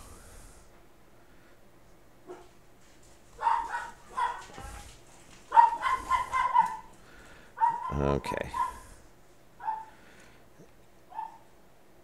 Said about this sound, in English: And sorry about the dogs.